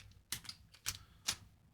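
Low-profile Choc-compatible 1.5U keycap pressed onto a Corne split keyboard, giving a few faint, crisp plastic clicks and snaps spaced out over a moment, close up and quiet with no talk.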